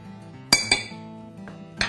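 A utensil stirs flour and a pinch of sugar in a bowl for tart crust, giving a few sharp clinks against the bowl with quiet pauses between, close and clear, no talking.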